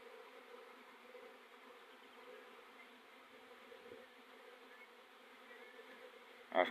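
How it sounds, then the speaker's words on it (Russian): Honeybees buzzing at an apiary on a sunny May day as young bees take orientation flights: a dense, steady swarm hum from many insects, moderate in level and unbroken, with a single louder buzz passing close at the end. "пасека гудит"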